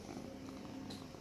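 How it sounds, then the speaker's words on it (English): Cat purring softly up close, a faint, low continuous rumbling purr heard alone for about a second. "You're making purring noises."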